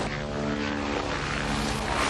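An aircraft flying aerobatics overhead, its engine and propeller producing a loud, continuous droning roar with steady tonal hum throughout.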